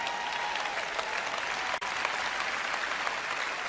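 Sustained audience applause filling the room at a religious speaking event, dense steady clapping with a brief dip midway.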